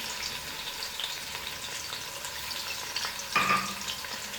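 Soft continuous sizzle of hot oil in a pan, with a louder hiss as a spoonful of crushed garlic drops in near the end, close and steady with no talk.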